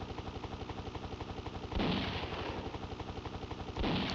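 Rapid gunfire from the Desert Strike: Return to the Gulf video game, a steady rhythmic stream of shots running through the whole stretch, with two heavier bursts like impacts partway through and at the end.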